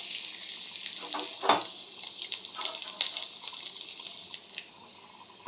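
Garlic frying in a pan of butter with a little oil, a soft, steady close sizzle with a few stirring clicks, while someone talks quietly over it.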